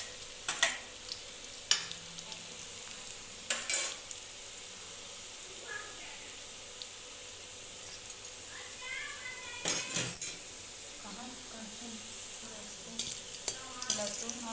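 Crushed garlic and red chillies fry in a pan for a Chhattisgarhi amaranth-greens dish, a soft sizzle with scattered stirring scrapes and clinks, and someone talking intermittently over it.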